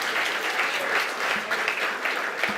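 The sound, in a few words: applause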